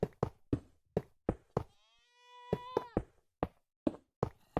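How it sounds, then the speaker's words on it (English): A goat bleats in a Minecraft modpack game, a long wavering cry rising and falling in the middle, framed by a steady series of sharp, loud knocking thuds before and after. "Fucking goat, dude."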